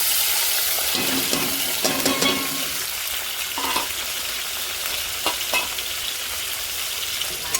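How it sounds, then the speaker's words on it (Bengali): Chopped onion fries in oil in a wok with a steady, loud sizzle and occasional stirring scrapes throughout, no talking. "ভালো করে একটু ভেজে নেব।"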